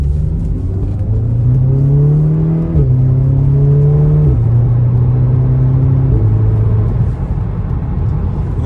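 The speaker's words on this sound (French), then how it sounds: "On va faire une petite accélération pour montrer un petit peu ce que ça a dans le sac quand même." A 2015 Audi S3 in comfort mode accelerates from inside the cabin, its engine note rising through the gears with clear pitch steps and drops at each shift, a steady loud hum with no talking.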